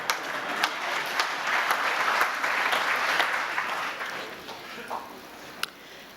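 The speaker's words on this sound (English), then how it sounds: "Go ahead, clap" An audience applauds during a national budget speech, a steady wash of clapping that swells and then thins out, with a few sharp individual claps near the end.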